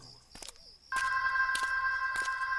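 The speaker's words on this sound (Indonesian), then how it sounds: "Suara dering telepon itu tidak berhenti." Telephone ringing as a sound effect in an Indonesian ghost-story audio drama set in a school at night, with repeated steady bell bursts that fill the background.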